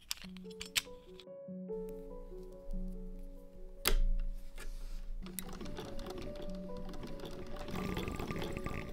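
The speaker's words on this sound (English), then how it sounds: "I remember that I have a sewing machine, which would drastically speed up this process." Sewing machine stitching the hem of an apron made from a repurposed stained tablecloth, heard in bursts of whirring with short pauses and clicks, close and fairly quiet.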